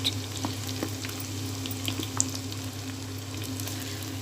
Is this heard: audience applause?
no